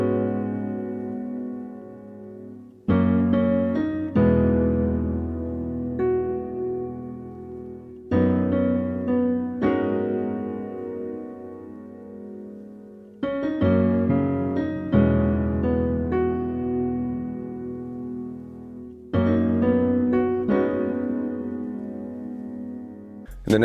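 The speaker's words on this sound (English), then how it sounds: "it's a combination of a acoustic modern piano and a vintage piano, which creates a nice, beautiful sound" A blend of acoustic modern piano and vintage piano plays a repeating progression of sustained chords. Each new chord is struck firmly and rings out warm and full, with four similar phrases cycling at a steady, unhurried pace.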